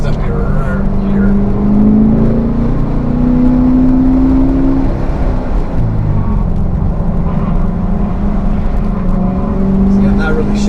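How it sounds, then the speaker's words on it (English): Car engine droning steadily inside the cabin during a track day warm-up lap at the Autobahn South track, a continuous loud hum with gentle pitch shifts and no hard revving. "I'm just trying to warm the car up."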